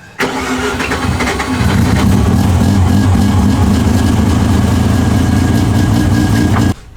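Rotary-engined endurance race car engine cranking and catching, then settling into a loud, buzzing, slightly lumpy idle held close for several seconds before cutting off.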